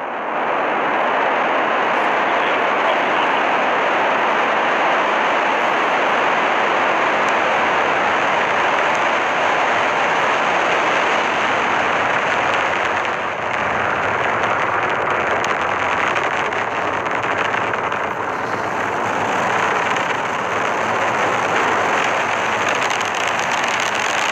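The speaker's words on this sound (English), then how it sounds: "liftoff as Falcon 9 and Cargo Dragon take flight" A SpaceX Falcon 9 rocket carrying a Cargo Dragon lifts off with a steady, loud, broadband roar that holds without a break, crackling and distant-sounding.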